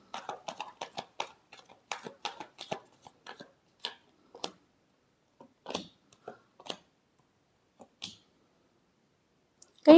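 Tarot cards being shuffled: quiet, irregular papery clicks and flutters in quick bursts, sparser toward the end, with a louder knock at the very close.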